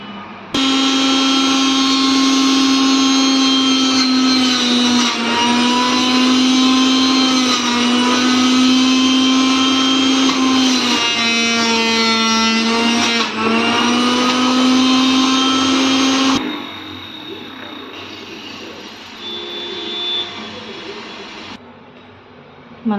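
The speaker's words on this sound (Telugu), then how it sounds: "నేను జ్యూసర్లో చేసి చూపిస్తాను మీకు. జ్యూసర్ ఇలా సెట్ చేసుకోవాలి." A juicer grinding carrot, beetroot and tomato pieces in a home kitchen runs loud and steady with a strong motor whine, changing pitch as the load shifts, then winds down to a lighter, lower-pitched spin near the end.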